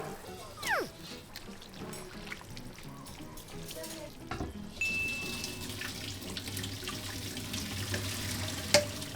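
Tap water running into a pot in a home kitchen while vegetables are prepared for blanching, a steady rushing stream lasting several seconds with faint kitchen clatter and a sharp clink near the end.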